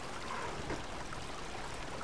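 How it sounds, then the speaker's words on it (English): Steady rushing water pressing against a gate in Obduction, a continuous even flow with no pauses. "with the water going vertically against the gate"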